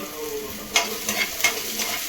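Cumin seeds and curry leaves frying in oil for fish sambar, a continuous sizzle punctuated by several sharp crackles and spits as the spices pop, close and loud with no talking.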